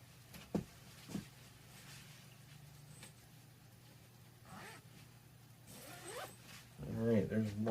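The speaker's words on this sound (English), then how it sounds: "Zippers aren't really designed to do what I do with them." Clothing zippers pulled repeatedly in a workshop: short zipping strokes among handling noises and a faint background hum, closing with a louder rasping pull.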